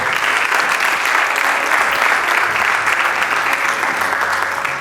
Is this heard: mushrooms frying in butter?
no